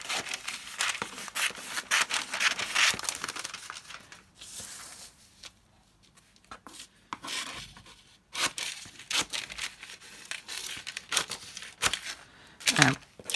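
Scissors trim a paper embellishment up close: quick bursts of crisp snipping and rustling paper, with a quieter pause in the middle before the cutting picks up again.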